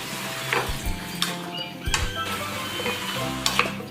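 A spoon stirs chicken tinola ingredients in a hot, sizzling pot, with steady frying hiss, scraping strokes and occasional metallic clinks against the pot, close and fairly loud.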